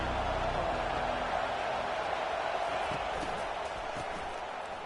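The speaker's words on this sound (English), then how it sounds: "This crowd bringing the energy and noise early." Stadium crowd roar from the NCAA 25 college football video game, a broad steady wash of cheering noise that holds loud throughout and fades slightly at the end.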